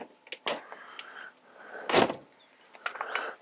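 A caravan door is pushed shut, giving a close thud with a short rattle amid quieter clicks and knocks.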